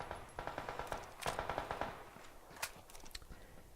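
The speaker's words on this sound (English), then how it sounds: "I'm gonna shoot the rock straight in front of me again a couple of times." Gunfire at a rock in PUBG, quick rapid-fire bursts of shots at moderate distance with short pauses between volleys and a few single cracks near the end.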